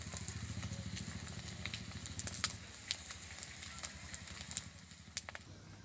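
An egg fries in hot oil in a wok, giving a soft, steady sizzle scattered with sharp crackles and pops over a low background hum.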